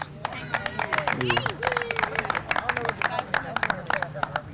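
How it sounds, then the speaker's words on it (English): A crowd at a baseball senior night claps and cheers in a lively, dense patter, with voices calling out and chatter mixed through the applause. "Clap it up, boys."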